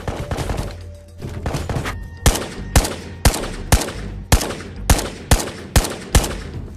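Gold AK rifle fire in the VR shooter Ghosts of Tabor: loud, close single shots in a steady, evenly spaced rhythm of about two per second, each with a sharp crack and short decay, after a denser burst at the start.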